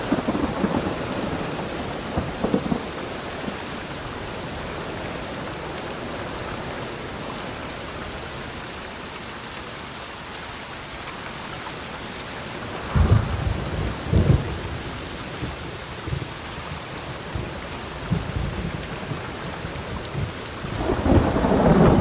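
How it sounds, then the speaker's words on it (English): Steady heavy rain hisses throughout a video game scene while deep rolls of thunder rumble in the distance, swelling louder near the middle and end. "Rain again."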